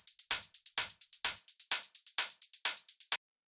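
Dark techno hi-hats without a high-end EQ boost, a quick, tight pattern of crisp metallic ticks with brighter open hits on a steady groove, loud and alone, cutting off abruptly.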